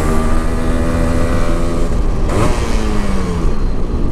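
Yamaha RX135 motorcycle from 1996, fully restored, its engine revving hard with a loud, raw two-stroke note that rises and falls continuously through the whole stretch, close to the mic.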